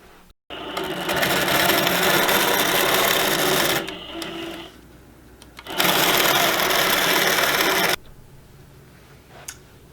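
A longarm quilting machine sews a binding onto a quilt in two loud, sustained runs of rapid stitching, separated by a pause with quieter handling noise, close up and with no talk.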